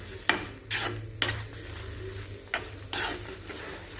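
Pav bhaji mash with chili powder is stirred in a pan, with several loud scraping strokes in an uneven rhythm over a soft sizzle close by.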